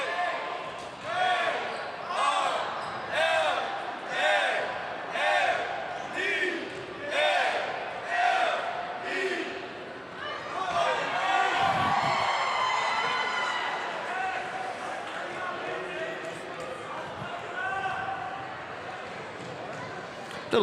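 A high school basketball gym crowd cheers and claps at halftime, a cheerleader urging them on with rhythmic bursts of noise, then a louder sustained roar that slowly fades, with voices heard throughout.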